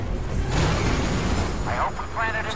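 Explosion in the video game Star Wars Battlefront 2, a dense, loud broadband roar filling the whole short stretch, with brief bright bursts near the end.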